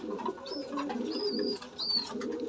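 A black-lipped pigeon coos in low, throaty rolling phrases, close to the microphone, with a few faint higher chirps from other birds in the background.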